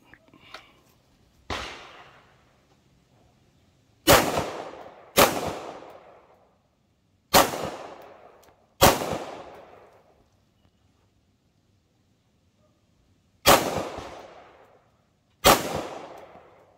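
Seven sharp 9mm pistol shots at an outdoor shooting range, fired from 10 yards at irregular intervals, each a loud crack with a quick decaying echo between long quiet gaps.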